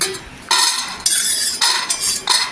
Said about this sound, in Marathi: आता इथे प्लेटमध्ये काढून घ्यायचं।